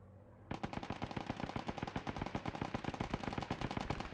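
A rapid, sustained burst of aircraft machine-gun fire from a strafing run in the WWII game Post Scriptum begins abruptly and rattles on at an even pace, loud and close.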